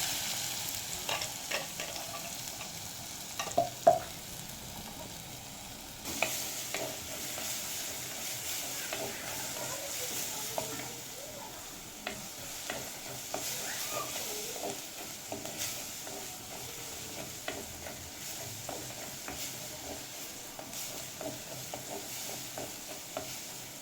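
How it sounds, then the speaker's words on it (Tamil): Handful of garlic frying with a quarter spoon of mustard seeds in hot oil, a steady close sizzle with occasional stirring clinks and scrapes, no talk. "இப்போ பூண்டு கொஞ்சம் வதங்கினோடனே"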